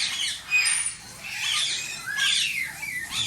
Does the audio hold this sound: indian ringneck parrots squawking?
yes